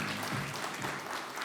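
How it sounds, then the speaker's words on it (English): Sustained audience applause at an ESG leadership summit, steady dense clapping from a large crowd throughout. "can we begin with a huge round of applause from all of you?"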